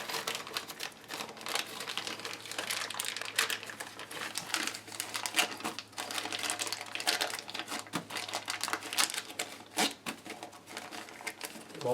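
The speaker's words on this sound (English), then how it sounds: "We're going to grab our bolts." Metal bolts and washers for a wall TV mount are picked up and handled, giving a steady run of small clicks and crinkling rattles at close range, with no speech.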